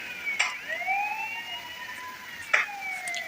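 A police car siren in the video game Indian Bike Driving 3D wails in long rising and falling sweeps, loud and steady throughout, with a couple of short sharp bangs cutting in.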